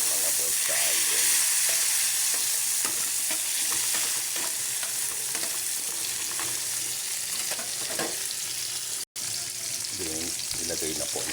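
Tomatoes sautéing in a pan while being stirred for a Filipino snail dish, a continuous close sizzle with scraping stir strokes and a brief dropout near the end.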